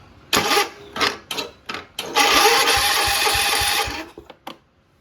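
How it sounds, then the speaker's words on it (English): An engine turns over on its starter in a workshop, with several short cranking bursts followed by one longer sustained crank, all loud and close, before it cuts off into quiet. "as you can see, I can turn over the engine now."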